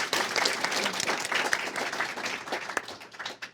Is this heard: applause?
yes